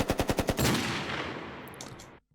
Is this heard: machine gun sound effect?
yes